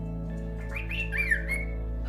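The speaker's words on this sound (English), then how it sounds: "Hi, little bird." A pet bird in a home squawks and whistles in a few short rising calls against a steady low background hum, fairly close and moderately loud, with no talking.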